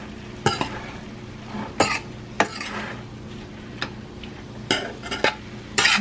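Green beans stir-fried in a pan, with sharp utensil scrapes and clatters against the cookware coming at irregular intervals over a faint background sizzle. No one speaks.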